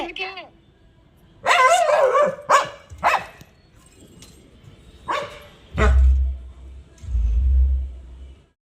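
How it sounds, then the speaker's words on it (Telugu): A dog barks in several sharp bursts, some close and loud, separated by pauses, with a person talking in between. "చూడండి అట్లా అరుస్తూ ఉన్నాడు, పైకెక్కి కుక్కలు వస్తున్నాయని"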